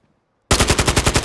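A sudden burst of rapid assault rifle fire from an AK74 in the Modern Warfare 2 video game, loud and close, roughly a dozen quick evenly spaced shots.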